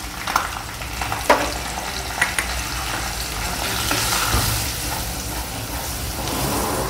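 Gram flour being stirred into spring onions frying in a pan, a steady close sizzle with scraping spoon strokes and a few sharper clicks of utensil against the pan.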